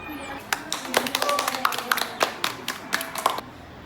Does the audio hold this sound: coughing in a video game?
no